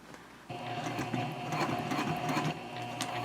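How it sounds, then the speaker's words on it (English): A sewing machine back stitches a messenger bag strap with a fast, steady mechanical whirr and rhythmic needle clatter, close and even throughout. "And I am going to back stitch over that."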